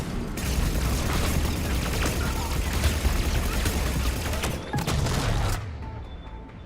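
Sustained gunfire aimed at a mech in the Mass Effect 3 video game, a dense, loud volley of rapid shots with booming impacts that cuts off near the end.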